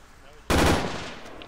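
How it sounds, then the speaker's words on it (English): Gunfire from players in the Arma 3 video game, a sudden loud burst of rapid shots that decays into a lingering noisy tail, heard alone. "That's people shooting."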